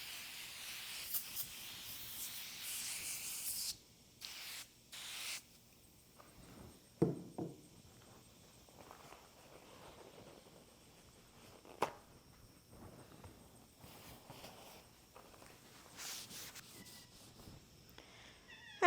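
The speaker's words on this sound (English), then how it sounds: "let's get this whole thing sprayed down and cleaned" A welded metal piece is sprayed down and wiped clean in a workshop, giving soft hissing sprays and rubbing scrapes in intermittent bursts, with a few sharper knocks and no talking.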